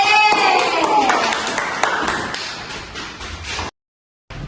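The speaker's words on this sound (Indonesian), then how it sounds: "Tepuk tangan buat kelompok B." Schoolchildren clap for a group in an elementary classroom, loud uneven clapping that thins out before cutting to silence, then a brief return of room noise.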